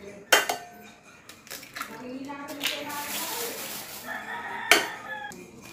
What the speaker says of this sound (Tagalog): magtitimpla muna tayo ng itlog. Mga 3 itlog lang yan mga kabs.